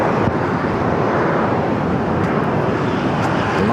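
Northern Air Cargo Boeing 767 jet at LAX, lined up on runway 25 left, producing a steady, loud broadband roar that holds evenly throughout without a break.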